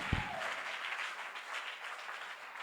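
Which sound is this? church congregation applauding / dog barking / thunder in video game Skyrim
church congregation applauding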